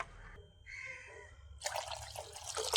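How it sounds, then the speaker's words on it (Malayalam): Water added to a pan of tamarind curry: quiet faint trickles at first, then a louder splashing pour over the last second, close and without speech. "കുറച്ച് വെള്ളം കൂടി ചേർത്ത് കൊടുക്കാം"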